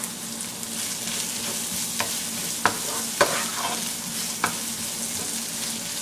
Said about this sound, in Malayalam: നമുക്കിപ്പം ഈ പച്ചമുളക് കൂടെ ഇടാം